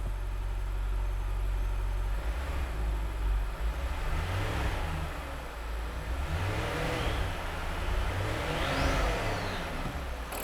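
A freshly rebuilt supercharged V8 in an Alpina B7 is blipped on the throttle, rising and falling in several swelling revs above a rumbling idle, loud and close.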